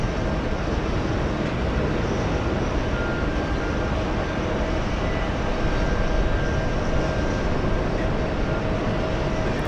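A JetBlue airliner takes off from runway 22 right at JFK airport in New York, a steady, loud broadband engine roar holding for the full stretch without letup.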